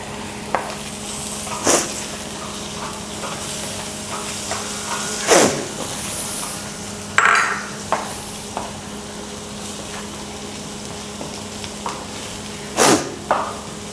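Onions and curry leaves crackle in hot oil in a pan as a squid dish is cooked, with a soft steady sizzle broken by occasional louder spatters and stirring scrapes.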